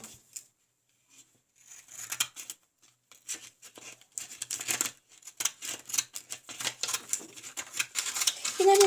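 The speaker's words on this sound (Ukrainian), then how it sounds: "беру ось такі ножиці і ріжу" Scissors cutting paper while making a handmade greeting card, heard as many short, crisp snips and crinkles in irregular bursts, close and fairly quiet. A voice comes in briefly at the end.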